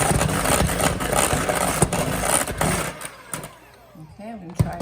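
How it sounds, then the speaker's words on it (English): Electric beaters whipping cream for a brandied white chocolate mousse, a loud steady motor whir that cuts off partway through, followed by quieter bowl sounds and a voice. "so we're going to give it a little more whipping."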